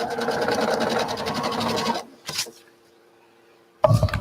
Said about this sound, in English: this is the way I can do it to show y'all as I'm sewing